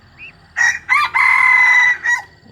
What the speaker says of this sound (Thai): เสียงขันก็ส่ำนี้แหละเนาะบ่ค่อยม่วนหลาย